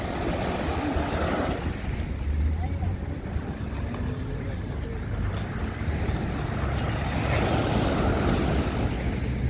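Ocean surf at Flavours Beach in Runaway Bay, St. Ann, Jamaica. Waves roll in and wash steadily under heavy wind buffeting the microphone, with a constant rushing wash throughout.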